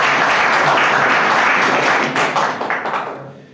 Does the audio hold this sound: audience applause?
yes